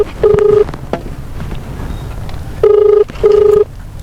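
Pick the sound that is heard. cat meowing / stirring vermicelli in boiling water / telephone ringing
telephone ringing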